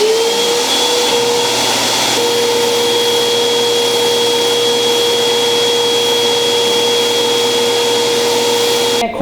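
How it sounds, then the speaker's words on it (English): A disc sander shapes G10 grips for a Browning Buck Mark URX pistol, giving a loud, steady whirring drone with a constant pitch that holds close and unbroken throughout, with a brief dip at the very end. "So my first idea is to go to the disc sander, and I'm going to see if I can kind of start cutting these contours in."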